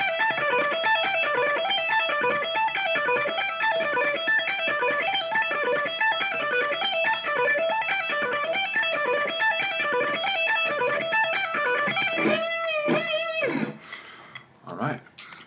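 Electric guitar practising alternate picking with hammer-ons and pull-offs at 140 BPM, a steady stream of fast repeating single-note patterns, fairly quiet, ending in a few bends and scattered notes.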